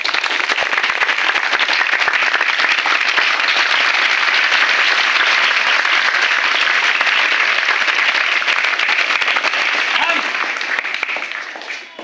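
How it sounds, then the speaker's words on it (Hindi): Audience applause at a cleanliness-themed activity at an upgraded middle school in Kabirpur, Sidhwaliya, Gopalganj: steady, dense clapping from a crowd that holds loud for about twelve seconds before tapering off at the end. "इनके लिए सबसे पहले ताली बजाइए।"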